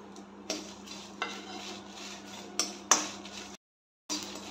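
Cumin seeds tempering in hot oil for a Bengali-style mango oil pickle, a steady sizzle with occasional sharp pops and spoon stirring, close up, broken by a brief silence near the end.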